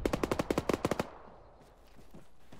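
Machine gun fire from an opposing side in the Arma military game, a fast burst of about a dozen loud rounds over roughly one second, then a fading echoing tail and quiet.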